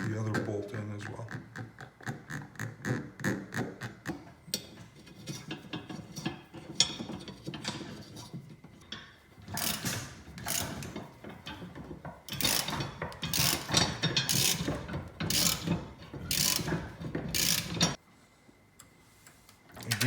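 A ratchet tightens bolts on a tire rack for a Gen2 Raptor, with runs of rapid pawl clicking in close bursts and brief pauses between strokes, plus some handling noise and a voice speaking at moments.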